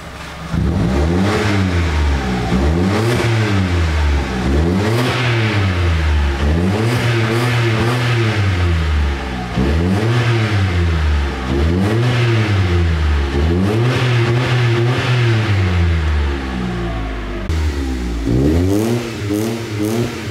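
A 2019 Mitsubishi Mirage G4 with a modified resonator exhaust and a new flexible pipe revs again and again in a steady rhythm, about eight rising-and-falling blips. The engine is close and loud, with a brief idle near the end.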